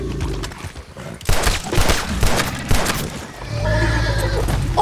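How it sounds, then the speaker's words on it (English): A horse in the Red Dead Redemption II video game whinnies loudly near the end, following a burst of noisy commotion that may include gunfire; the neigh rings out clear and close. "Rascal's a horse, and that's normal."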